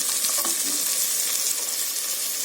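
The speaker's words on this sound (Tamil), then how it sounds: "இப்போ இந்த காயெல்லாம் வெங்காயம் தக்காளி கூட சேர்த்து நல்லா வதக்கிக்கோங்க." Beans and carrots stir-frying with onion and tomato in a pan for vegetable biryani, a steady close sizzle with a few stirring scrapes, no voices.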